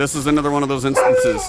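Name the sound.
husky dog barking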